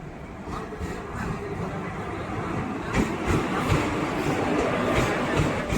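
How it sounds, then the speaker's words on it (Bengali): A train rumbles in with low, heavy rolling noise and rhythmic clacking of wheels on rails, growing slightly louder as it approaches. "ট্রেন চলে আসছে"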